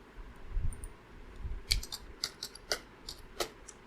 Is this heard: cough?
no